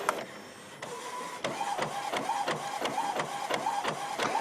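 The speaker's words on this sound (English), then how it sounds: "Okay, now I got a couple of test sheets that are going to print out." An inkjet printer runs test sheets on plain paper, giving a quiet, close mechanical whir. Short, evenly spaced printhead passes with faint chirps follow one another in a regular back-and-forth rhythm.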